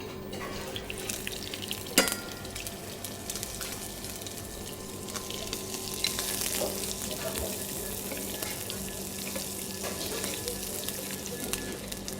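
Scallops sear in very hot olive oil in a pan, giving a steady broadband sizzle and crackle, with a faint sharp knock near the start and a few soft clinks, with no talking.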